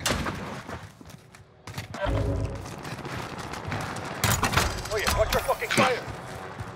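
Gunfire in the Warzone battle royale game, bursts of shots and thuds mixed with game effects, heard under players talking over voice chat.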